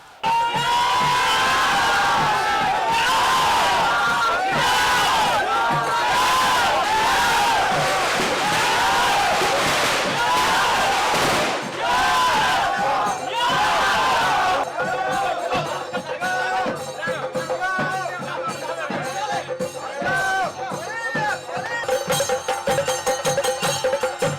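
A dense crowd at a Padayani temple procession in Kottangal cheers, whoops and shouts continuously, loud and close, with voices rising and falling in waves and a brief lull near the middle.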